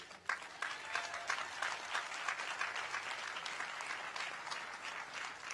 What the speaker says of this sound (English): So as the adults, you can guys clap it up if you want to